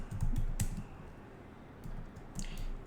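Code being typed on a computer keyboard, quiet bursts of rapid key clicks with a short pause between them, close and soft.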